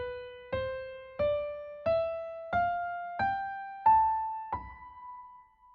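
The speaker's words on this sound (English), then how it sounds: "Locrian has a diminished vibe and sounds like this." A Locrian mode scale played as eight single clean notes, rising step by step in an even rhythm, each plucked and ringing briefly, quiet and alone.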